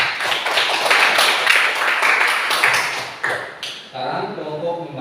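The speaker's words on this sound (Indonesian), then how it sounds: "kita tepuk tangan buat kelompok membaca" A classroom group claps for the reading group, dense overlapping hand claps at steady volume for several seconds, then thinning out near the end, with children's voices mixed in.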